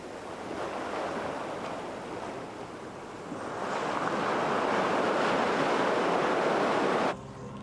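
Caribbean sea surf breaking on the shore at Grand-Case, on the French side of the island, a steady broadband wash that swells louder midway as a bigger wave rolls in, then cuts off abruptly near the end.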